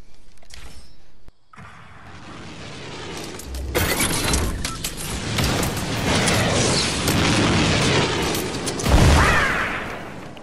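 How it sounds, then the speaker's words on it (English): Rockets explode repeatedly in Fortnite, making dense crashing booms and shattering debris that build into a continuous loud barrage, with a heavy blast near the end. "keep on shooting the rockets"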